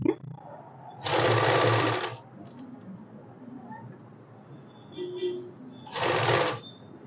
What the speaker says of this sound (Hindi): और ये हम यहाँ पे सिलाई लगा देंगे।